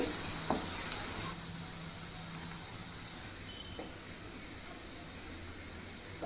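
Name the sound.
coconut kofta balls frying while being turned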